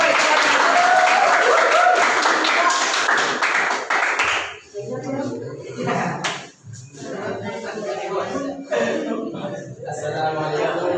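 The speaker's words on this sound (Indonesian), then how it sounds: "Itu tepuk tangan supaya semangat." Classroom clapping for a student group about to present, a dense burst of applause for about four seconds that stops abruptly, followed by chatter and talking among the students.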